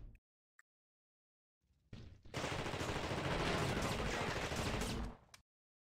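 A loud, continuous burst of automatic gunfire in the PC video game The Thing, erupting after near silence and hammering steadily for about three seconds before cutting off.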